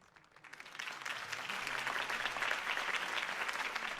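A crowd in the Telltale Batman video game breaks into applause after a Harvey Dent campaign speech, the clapping swelling from faint to a full, steady roar that carries on.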